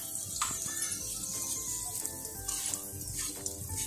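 Aloo paratha frying in ghee on a hot pan gives a steady close sizzle with crackling pops and small spits throughout, no voices.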